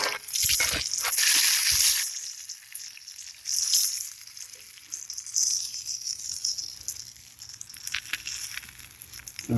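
Striped bass pan-frying produces a crackling sizzle that swells loudest early on, then settles into a quieter, uneven spitting hiss with occasional louder pops.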